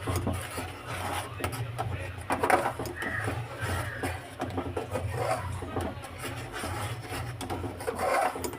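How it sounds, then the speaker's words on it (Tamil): A spoon scrapes and rubs around a pan in repeated strokes, close up, a soft rasping stir over a low background hum. "ஸ்பூனை வச்சு இன்னும் நல்லா கலக்கி விட்டுக்கோங்க."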